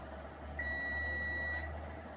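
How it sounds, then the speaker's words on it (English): An electronic kitchen timer beeps during macaron baking, a steady high-pitched tone holding for about a second over a constant low room hum, with no talking. "my timer is going off"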